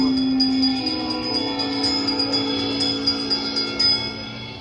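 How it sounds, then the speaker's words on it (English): A bell rings steadily with a sustained tone and repeated faint strikes, ringing on alone over a low background hum, inside Disneyland's Haunted Mansion ride. "give us a hint by ringing a bell"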